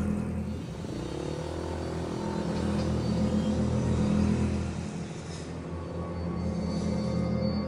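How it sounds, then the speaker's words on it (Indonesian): A car accelerating away in a radio drama: a low engine rumble swells and pulls forward over several seconds, then eases off as it recedes, with no speech over it. "aku pun langsung tancap gas kembali ke rumah."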